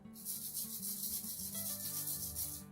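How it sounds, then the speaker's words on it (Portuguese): A homemade shaker made from recycled materials, filled with beans and rice, gives a steady, continuous rattling hiss of grains sliding and rubbing, shaken back and forth close by without pause. "eu trouxe o feijão porque ele tem um som bem grave e o arroz porque ele tem um som agudo"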